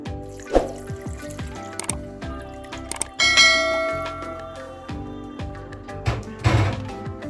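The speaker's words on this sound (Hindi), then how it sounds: "और इसमें जो बाकी पानी जो है" Remaining water is poured into a pot of kheer on a lit stove, a steady splashing trickle that swells midway and continues alone with light clinks, no talking.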